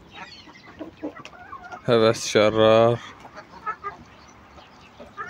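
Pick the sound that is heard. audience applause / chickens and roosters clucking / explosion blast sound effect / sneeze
chickens and roosters clucking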